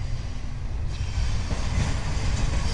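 A freight train hauling domestic and overseas intermodal containers rolls past on the former Norfolk and Western main line in Roanoke, Virginia, a steady broadband rumble of wheels and cars that holds at moderate loudness throughout, with no voices.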